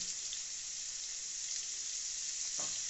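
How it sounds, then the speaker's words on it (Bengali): Pointed gourd frying lightly in oil in a pan while fish curry is cooked, a soft continuous sizzle and crackle with a faint stir or clink near the end, no talking. "এরপরে আমরা পটলগুলো একটু ভেজে নিচ্ছি হালকা করে"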